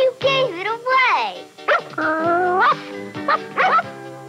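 Person imitating a dog barking during a Pictionary game, a voice producing a string of yipping bow-wow sounds with whimpering rises, close and clear over a few seconds.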